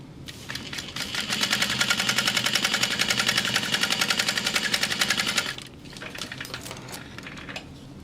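Sewing machine top stitching a fabric bag, a fast steady needle rattle that runs loud and close for several seconds, then stops abruptly, leaving quieter handling noise.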